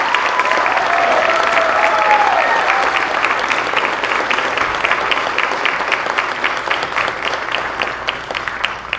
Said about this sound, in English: She surely deserves another huge round of applause.